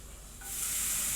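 Paneer dropped into hot butter in a kadhai bursts into a loud, steady sizzle partway through, after a quieter start, and holds at full strength to the end.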